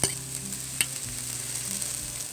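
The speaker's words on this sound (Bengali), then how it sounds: "এগুলো একদম লাল লাল করা যাবে না, হালকা শুধু ভেজে নিতে হবে।" Chopped vegetables such as carrot and cabbage lightly frying in a pan, giving a steady close sizzle with a couple of sharp utensil knocks and faint stirring scrapes.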